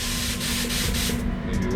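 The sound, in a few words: spray gun spraying paint at lower pressure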